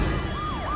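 An ambulance siren wails on a road, its pitch sweeping up and down in a continuous wavering tone, loud and close over a rumbling traffic background.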